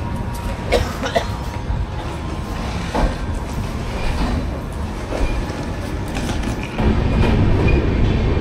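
A train rolls into Bolpur station, its rumble and rhythmic clatter close and steady, with scattered clicks and a swell of louder noise near the end.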